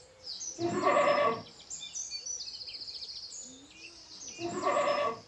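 A goat bleats twice, loud and close, each call a drawn-out wavering cry, while it watches its food arriving; a quieter buzzing call sits between them.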